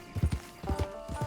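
Horse hooves clop in Red Dead Online, two quick bursts of three or four close, thudding footfalls, steady and unaccompanied by talk.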